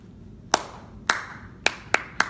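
Hands clap sharply five times to the beat of a children's counting song, crisp single claps, two spaced apart and then three quicker ones, standing alone against quiet.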